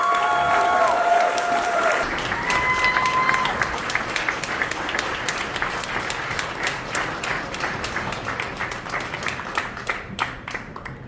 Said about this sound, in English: Give her a nice big hand of applause.